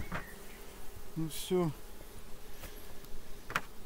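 Honey bees buzz at an open hive in a continuous close hum, with someone speaking briefly over it.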